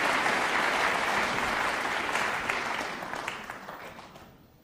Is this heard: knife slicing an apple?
no